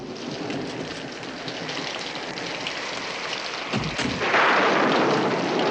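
Steady heavy rain pours down outdoors, a dense continuous wash that swells louder near the end, with no voices.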